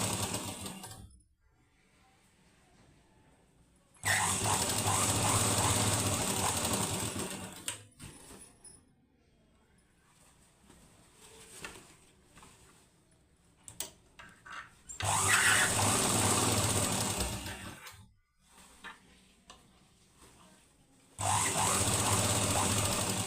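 A sewing machine stitches a langa blouse in three long, loud, continuous runs of motor whir, separated by quieter gaps filled with faint handling noises of fabric and the machine.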